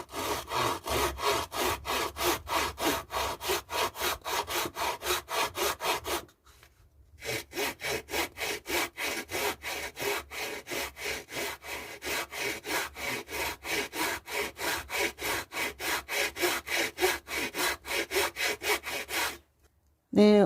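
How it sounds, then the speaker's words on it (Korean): A hand saw rasps through wood in fast, even back-and-forth strokes, pausing briefly twice before resuming, cutting side pieces for a mini awning on a DIY dog house; no voices. "나무를 톱질을 해서 이렇게 잘라 주었습니다."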